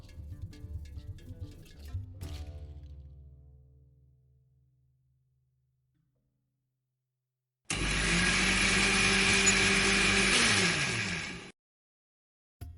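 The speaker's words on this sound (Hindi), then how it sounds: "अब बारी है जी इस अमेजे को हम ब्लेंडर में ब्लेंड कर लेंगे" An electric blender whirs through peeled tomatoes in a steady, loud burst of about four seconds, after quieter kitchen sounds fade into silence.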